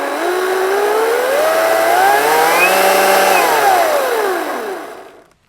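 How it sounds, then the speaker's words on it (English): Ryobi 36V cordless chainsaw with its electric motor whining, the pitch rising steadily as the throttle is squeezed from slow to full speed, holding high, then falling away as it spins down, loud and close with no talk. "You can start off slow and you can go all the way through to full throttle,"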